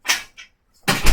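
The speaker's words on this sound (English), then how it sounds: "Let me close my door so people don't hear me talking too" A door in a room being pushed shut, with a couple of soft brushing shuffles followed by a louder closing thud near the end, close by and without talk.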